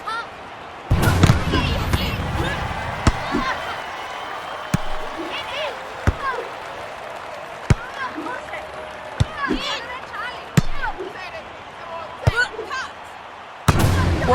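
Volleyball serve and ball strikes from the London 2012 video game's beach volleyball match at Horse Guards, with Switzerland serving: sharp isolated thwacks spaced a second or two apart over a steady crowd murmur and commentary-like voices.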